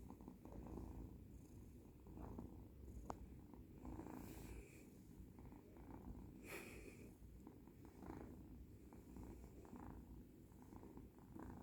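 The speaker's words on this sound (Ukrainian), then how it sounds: "Він мурчати почав." A cat purrs softly and steadily up close, the rhythmic rumble rising and falling with each breath, with no other sounds around it.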